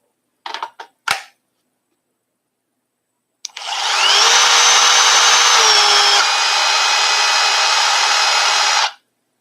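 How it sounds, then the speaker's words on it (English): A few brief clicks, then a power drill whirs up loudly and runs steadily for about five seconds, its pitch shifting slightly before it stops. "why is it that this battery does that to this drill?"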